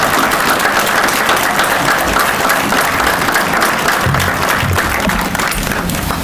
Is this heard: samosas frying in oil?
no